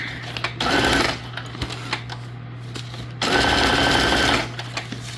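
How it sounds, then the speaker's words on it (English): Straight stitching on a sewing machine while making junk journal tags, two loud bursts of steady rapid needle hum separated by a quieter pause with a constant low motor drone throughout. "Now I'm going to go back to straight stitch to come down and use up this area."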